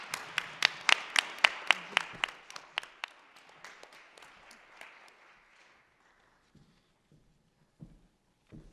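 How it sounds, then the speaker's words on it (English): An audience applauds panelists at a community arts and accessibility event, starting with a burst of crisp claps that thin out and fade over several seconds into a few scattered taps. "let's just give everybody a round of applause"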